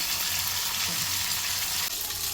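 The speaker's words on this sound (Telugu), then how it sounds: "ఆయిల్ వేసుకొని టమాటోస్ అయితే వేసేసుకోవాలండి" Tomatoes fry in oil for a chicken gravy curry, giving a dense, even sizzle close by that continues steadily throughout.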